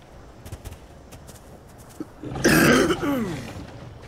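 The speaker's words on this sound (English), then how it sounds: "still got that cough, man" A man coughs and clears his throat close to the mic, a harsh, rough burst following a few faint clicks, trailing off into a lighter raspy tail.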